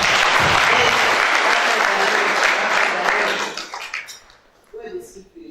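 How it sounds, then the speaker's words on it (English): An audience at a university human rights competition claps loudly, with a dense burst of applause for about three seconds that then fades away to scattered claps, followed by a brief noise. "it deserves a very big hand clap"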